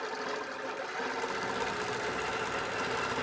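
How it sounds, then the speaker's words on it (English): Longarm quilting machine stitching free-motion bee and wing designs, a steady dense mechanical chatter of the needle running continuously and close, no voices. "I can hear my needle actually, so it'll be a good idea to change my needle"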